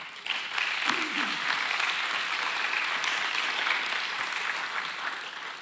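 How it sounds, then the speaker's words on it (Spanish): A church congregation applauds during a sermon, a sustained, dense wash of clapping from many hands filling the room at an even level for several seconds, with a brief voice near the start. "Démosle un aplauso al Señor."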